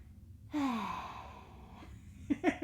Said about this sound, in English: I hope the mic doesn't pick up all my heavy breathing.